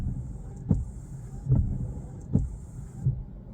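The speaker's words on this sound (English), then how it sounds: "You're gonna click and hold the windshield stock down until it wipes 4 times" A BMW 3 Series windshield wiper system cycles into service mode with the engine off, making four evenly spaced mechanical thumps roughly a second apart over a faint hum.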